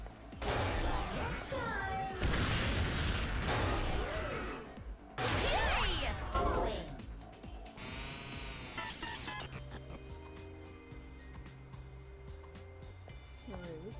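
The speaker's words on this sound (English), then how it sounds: "I technically blew them up all in one explosion!" Explosions in Danganronpa: Ultra Despair Girls come as loud crashing, whooshing game effects in heavy bursts that give way to a busier, quieter stretch of in-game sound.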